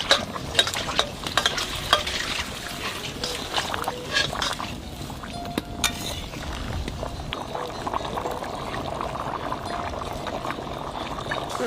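Baga fish curry simmering and being stirred in a pot over the fire, with steady bubbling and sizzling plus scraping stir strokes close up throughout, with no talking.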